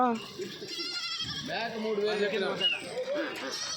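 Goats bleat repeatedly with wavering, nasal cries, fairly close, overlapping with people talking nearby at the weekly Kadiri livestock market.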